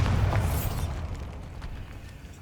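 A Bombarda spell blast in Hogwarts Legacy, a sharp loud boom at the start followed by a crackling, debris-like rumble that fades over about two seconds.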